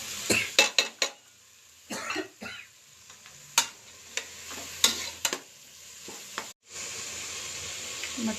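Carrots and mixed vegetables stirred in a frying pan, with a soft sizzle under a string of sharp scraping and clinking strokes at an uneven pace, close by, and no talking.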